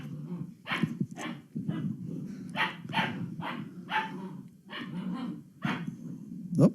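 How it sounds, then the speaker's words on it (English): Several small dogs, some inside a laundry basket, bark and growl in repeated short bursts, close by and loud, with snarls rumbling between the yaps. "There are 2 dogs in the laundry basket and 1 outside"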